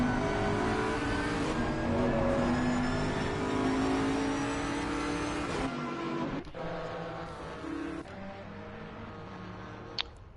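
GT race cars roar along the straight at Paul Ricard in Assetto Corsa Competizione, a loud sustained engine drone with shifting pitch and gear changes, and a sharp drop as the field passes.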